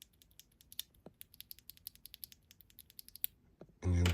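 Typing on a Rainy 75 mechanical keyboard fitted with its stock switches gives a steady run of close, crisp clacks at an even pace, ending in a sudden loud burst of noise.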